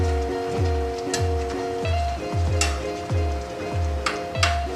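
Long green chilies and eggplant fry together in a pan for binagoongang baboy, giving a steady close sizzle with a rhythmic series of low thumps from stirring.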